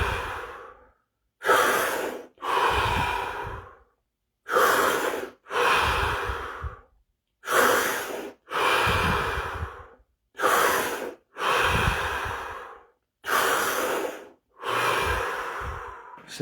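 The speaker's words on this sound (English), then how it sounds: "We're going to now do 7 deep breaths," Seven deep breaths in a guided breathing exercise, each a loud, close inhale followed by a long audible exhale, evenly paced with brief silences between them.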